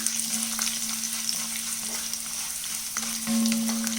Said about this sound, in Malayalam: കറിവേപ്പില ഇട്ട് കൊടുക്കാം. ഒന്ന് മൂത്ത് വരട്ടെ. നല്ലോണം ഇളക്കി കൊടുക്കാം.